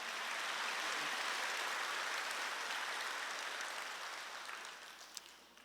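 Church congregation applauding together during a sermon, a dense, steady wash of clapping that holds loud for several seconds, then slowly thins and fades toward the end.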